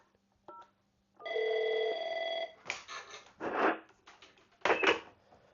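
An Avaya IP Office desk phone gives a short beep, then a sustained electronic ring tone after an extension is dialed, followed by several clicking, rattling handset and button noises nearby.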